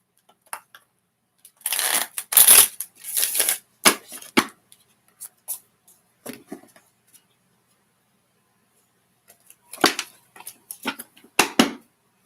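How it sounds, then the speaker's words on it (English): Tarot cards shuffled by hand in bursts of riffling and sliding, a long flurry early on, scattered taps in the middle, then another short run near the end, close and fairly loud with no talk. "I'm going to shuffle the cards and clear the energy."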